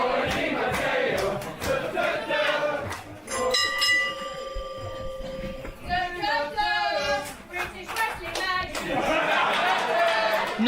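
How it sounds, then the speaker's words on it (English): A women's wrestling crowd at a live EVE show claps and cheers in loose bursts, loudest at the start and end, while a commentator talks over the noise and a bell rings near the middle. "as you can hear from that crowd"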